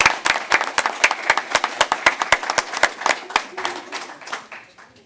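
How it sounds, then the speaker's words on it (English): A small audience at a school board of education meeting claps, with distinct, fairly close individual hand claps in a loose rhythm that thin out and fade, and a voice speaks briefly near the end. "Let's give them a round of applause again."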